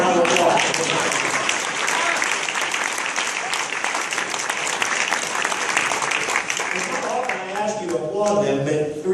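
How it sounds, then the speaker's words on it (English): Audience applause at a political event in Virginia, dense sustained clapping from a large crowd lasting throughout, loud and steady with faint voices mixed in toward the end. "Let's give them a round of applause."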